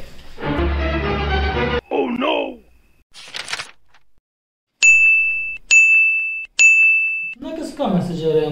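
A phone message notification chime rings three times in quick succession, clear and bright, after a loud noisy passage; people talk before and after the chimes.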